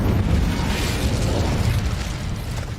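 Fiery spell blast in Hogwarts Legacy on Nintendo Switch, a loud, sustained roaring whoosh of flame with rumbling low-end bursts that fills the whole moment without speech.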